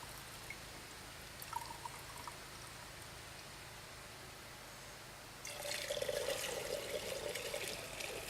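Gasoline pours into a container, a faint trickle at first and then a steady, louder liquid stream that fills the second half.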